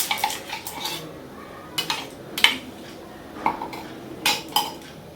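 An egg is beaten with salt and chili in a bowl, with a utensil clinking and scraping against the bowl in irregular close taps and no talk.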